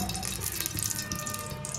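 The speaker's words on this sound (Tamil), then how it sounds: "எண்ணெய் ஊற்றிட்டு கொஞ்சம் நெய் ஊற்றிக்கலாம் கூட" Oil and then ghee poured into a pan while cooking paneer for paneer biryani, giving a steady, close splashy liquid hiss with bright sizzling texture throughout, no talk.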